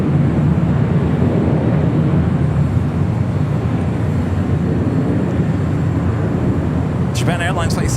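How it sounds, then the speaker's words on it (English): A Japan Airlines Boeing 787-8 Dreamliner departs LAX, its engines a broad, steady roar heard from a distance that holds loud throughout, with a short burst of other noise near the end. "Japan Airlines Flight 61 heading to Tokyo Narita on a 787-8 Dreamliner, heading up here for a north side departure"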